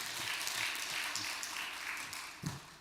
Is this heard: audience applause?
yes